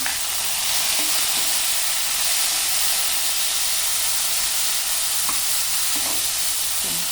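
Tomatoes added to onion and garlic frying in a pan for gorikayi gojju, a loud steady sizzle and hiss with faint stirring scrapes, close and continuous.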